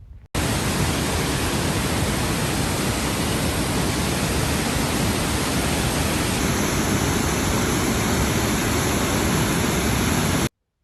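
Waterfalls near Split, Croatia, give a loud, steady, broadband roar of rushing water that runs unbroken for about ten seconds, close and alone, with no voices over it.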